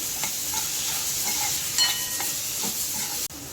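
Spices and chopped tomato stirred and fried in hot oil for a fenugreek leaf dish with sesame and peanuts, a loud continuous sizzle with occasional scraping stir strokes and small pops, no voices.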